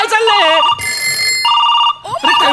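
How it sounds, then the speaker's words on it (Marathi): Telephones ring in repeated electronic bursts, loud and close, overlapping with animated speech from people in a comedy show setting. "एवढे फोन का वाजतायत."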